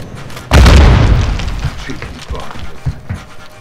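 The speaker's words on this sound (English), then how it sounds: "Who the fuck throws a grenade on a ship?" A grenade detonates aboard a ship in Modern Warfare 2, a sudden loud, deep boom that rumbles and decays over a few seconds, followed by fainter gunfire-like pops.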